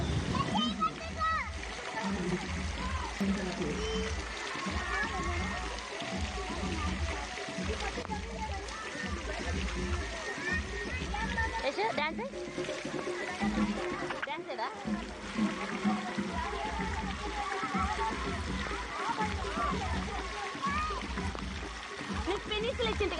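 Water falls continuously from an umbrella-shaped fountain at a water amusement park, a constant splashing wash heard throughout beneath people talking nearby.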